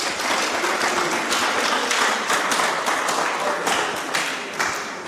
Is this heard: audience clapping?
yes